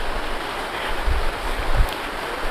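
Steady broadband rush of river water flowing alongside someone picking a route along the bank, with two soft low thumps around the middle, likely footsteps, and no talking.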